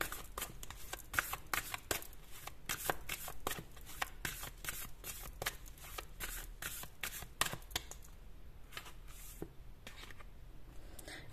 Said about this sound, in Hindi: उसके बाद एक और कार्ड निकालते हैं।